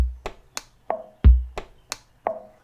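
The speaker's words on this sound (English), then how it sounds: "That's a brake lever clicking." Sharp processed clicks and snaps from a motorcycle brake lever arrive one at a time in an uneven pattern, some low and thumpy, others bright and tinny, with no talking.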